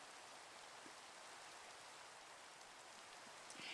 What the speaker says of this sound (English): I'm gonna go turn the rain off.